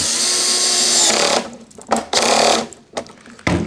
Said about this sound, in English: we'll just put our band clamp on that and tighten it up